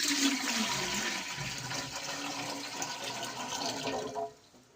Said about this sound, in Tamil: அதுக்கு தேவையான அளவுக்கு தண்ணி ஊற்றிக்கலாம்